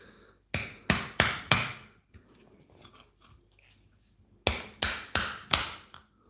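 Two bursts of four sharp, evenly spaced hammer strikes on metal, loud and close, during repair of a Milwaukee M18 power tool battery, separated by a quiet pause with faint handling noises.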